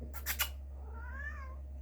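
A house cat gives a single drawn-out meow, soft and fairly close, preceded by brief rustling noise, against a steady low hum.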